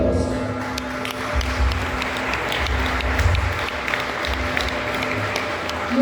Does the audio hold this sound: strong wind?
no